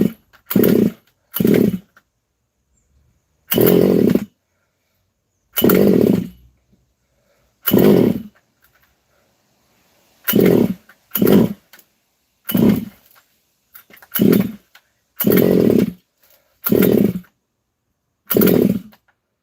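A rebuilt King outboard-style motor on its first start, firing in about a dozen separate rough bursts of roughly a second each, with short silences between, loud and close.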